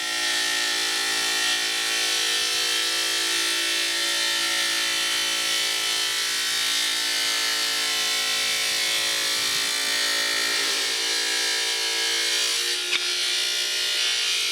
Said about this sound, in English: Wheel the saw where you need to, turn it on, and dial it down through the stone.